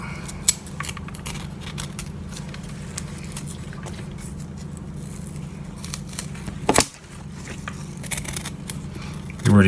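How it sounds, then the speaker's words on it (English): Knife scraping and peeling small nodules from a fresh wasabi root, producing short crisp scratchy cuts and scrapes close up over a steady low background hum, with one louder rustling burst near the end. "you can literally just take a knife and just peel it along the edge"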